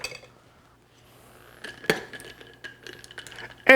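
A rum and ginger soda drink of Captain Morgan Lime Bite topped with Sprite Ginger, stirred in a glass: a few bright clinks and scrapes of a spoon against glass over a quiet background, ending in a louder clatter.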